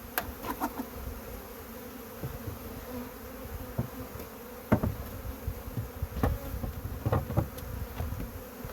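Honeybees buzz busily and steadily nearby while being shaken off hive boxes, a dense droning swarm, with occasional knocks and thumps of handling breaking through.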